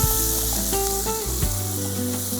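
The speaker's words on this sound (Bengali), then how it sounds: "ওই বাটারে আমরা অনিয়নটা দিচ্ছি, অনিয়ন হাফ কাপের মতো আমরা অনিয়ন দিয়ে দিচ্ছি।" Chopped onion, about half a cup, fries in melted butter in a pan, making a steady, loud, close sizzle that runs throughout alongside tonal background music, with no speech.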